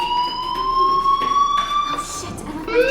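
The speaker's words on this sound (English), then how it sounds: "Do you hear that fire alarm?" Electronic fire alarm tones ring steadily in the game Life is Strange, held pitches with a rising sweep near the end, fairly loud and continuous with faint background activity.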